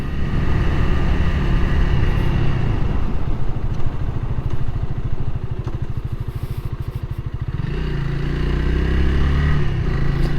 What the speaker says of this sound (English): plus this being a single cylinder engine.